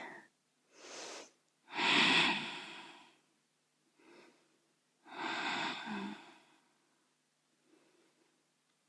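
Slow yoga breaths taken while holding a pose, with three broad inhale-exhale swells separated by quiet pauses, close and soft, with no talking.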